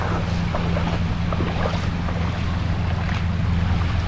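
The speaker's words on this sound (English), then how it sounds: "And to our left we have some waves breaking on one of the sandbars out there." Waves breaking on a sandbar at Lake Superior, a steady rushing surf wash mixed with wind buffeting the microphone and a low rumble, continuous and moderately loud with no talking.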